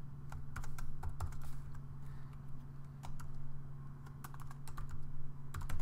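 Typing on a computer keyboard, with irregular bursts of clicky keystrokes over a steady low electrical hum, close and fairly loud.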